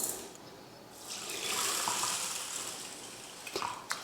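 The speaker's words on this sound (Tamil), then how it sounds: "கழுவிட்டு ஊற வச்சுக்கலாம்." Rice and toor dal are rinsed in water in a home kitchen, a steady swishing, splashing wash with brief sharper splashes near the end, fairly close and with no talking.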